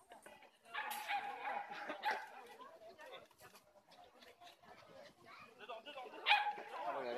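A Border Terrier at an agility session gives a few short, sharp barks and yips amid people chattering nearby, with a louder bark burst near the end.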